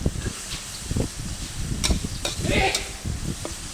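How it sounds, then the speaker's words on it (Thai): Minced field rat stir-fried with holy basil in a hot pan, giving crackling sizzle with repeated scraping strokes of a spatula, close and fairly loud. "มาดูขั้นตอนการผัดกะเพราหนูนาครับ"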